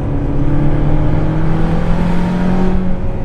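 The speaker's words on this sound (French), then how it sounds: "Le moteur est très agréable, très rond." A Ferrari engine hums at a steady, fairly high pitch, loud and close as if heard from inside the car, with a smooth continuous drone and no talking.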